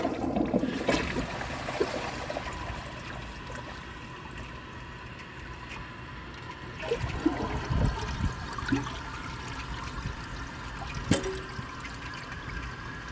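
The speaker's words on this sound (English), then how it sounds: "I'm gonna wait for the tank to fill back up and give it another flush." A 2011 AquaSource one-piece toilet flushes with a steady rush of water that swells and recedes, trickling and gurgling through the bowl and tank, fairly close with no voices.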